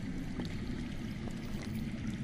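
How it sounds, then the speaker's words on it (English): Underground water flowing in a Game of Thrones video game, a soft continuous trickling stream heard faintly and evenly, with no voices. "That's water. I hear water. From underground."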